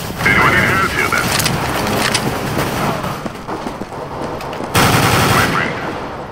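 Rapid automatic gunfire in Counter-Strike: Global Offensive on the Dust 2 map, with dense bursts of shots that pause briefly and then resume, mixed with game voice lines.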